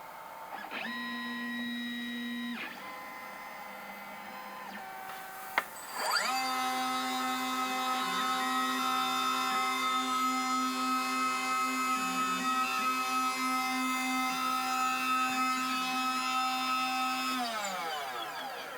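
A cutting machine drags its blade through flexible Pyralux copper laminate while cutting circuit traces, giving a steady tonal whine with a short burst, a sharp click, then a long sustained pass that winds down near the end. No one speaks.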